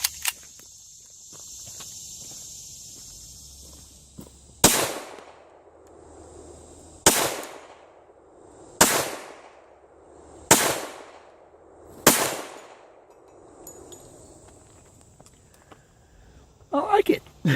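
Five loud, sharp pistol shots spaced about one and a half seconds apart, each a 230 grain bullet fired over a light charge of Clay Dot shotshell powder, with echoing decay after every report and faint handling noise at the end.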